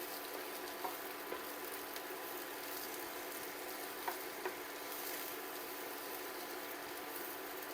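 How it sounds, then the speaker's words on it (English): Sliced mushrooms sautéing in a pan for chicken Marsala, a faint, even hiss of frying with a few light ticks from the spatula. "you take 1 container of sliced mushrooms. Okay. And you saute all of that"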